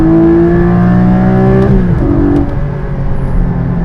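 A Porsche 718 Cayman GT4 engine revs hard with a loud, steady growl. Its pitch climbs, then dips sharply at a gear change before pulling again.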